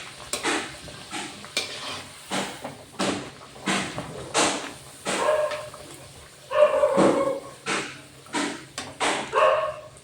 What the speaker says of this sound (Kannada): ಈ ನಾಯಿ ಬೊಗಳ್ತಾ ಇದೆ ಇಲ್ಲಿ